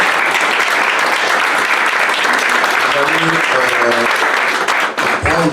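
Guests at a Franco-Congolese mixed wedding ceremony applaud loudly and continuously, a thick wall of clapping, while voices cheer and call out over it toward the end.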